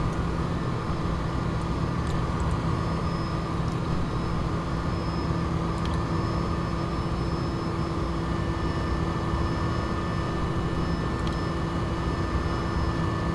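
A Bell 429 helicopter in the X-Plane 11 flight simulator gives a steady, loud turbine and rotor drone with a constant whine, continuous and unchanging throughout, with no voices.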